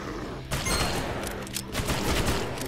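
Rapid bursts of gunfire from the co-operative arcade-style zombie FPS game Dead Containment crackle in quick succession, dense volleys with brief gaps, fairly loud and busy.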